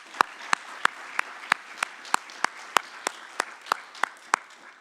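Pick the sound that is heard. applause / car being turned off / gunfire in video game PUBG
applause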